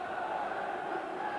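A sparse stadium crowd murmurs at a 1991-92 Serie A football match between Inter and Parma, a faint, steady distant hubbub with no distinct cheers.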